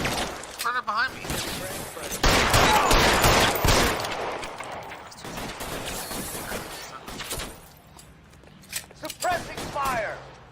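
Suppressing gunfire in the video game L.A. Noire, with dense bursts of shots and impacts, loudest early on and then thinning out, under frequent shouting voices.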